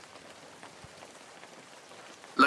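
Steady rain falls on a village house, making a soft, even patter that continues without a break at low volume.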